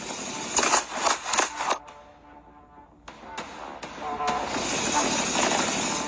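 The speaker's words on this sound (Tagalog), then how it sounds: "sa video ay maririnig ang sunod-sunod na putok ng baril." A rapid burst of gunshots, four or five sharp cracks in quick succession, then a few more scattered pops over a noisy, hissing background, in Barangay New Buswang, Kalibo, Aklan.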